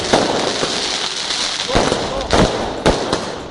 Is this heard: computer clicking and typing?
no